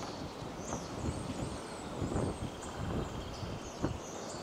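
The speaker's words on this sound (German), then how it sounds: "Sehr windig ist es heute." Steady stormy wind by a lake roaring and buffeting the microphone, with gusts swelling and fading throughout, no voices.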